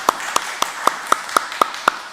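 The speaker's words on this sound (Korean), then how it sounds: "우리 감사의 박수 한번 드리겠습니다." Church congregation applauding during a Sunday worship service, heard as eight evenly spaced sharp claps in a steady rhythm, close and moderately loud.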